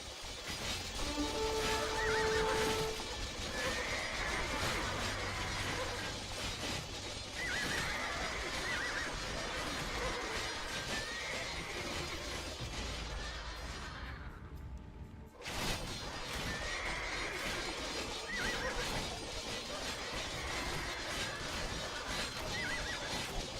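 Cavalry charge in Age of Empires II, many horses neighing and whinnying over a dense rumble of galloping hooves, loud and sustained, with crashes and swooshes of battle mixed in and a brief dip midway.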